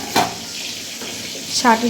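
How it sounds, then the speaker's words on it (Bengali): Fish frying in a pan gives a soft sizzle under a few utensil clinks and scrapes, with brief voice sounds at the start and end. "আর এখানে মাছ ভাজা করছি তো মাছটা ভাজা হোক"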